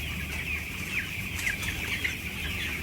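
Healthy 14-day-old chicks peeping indoors, a continuous busy chorus of thin high chirps from several birds close by, with no one talking.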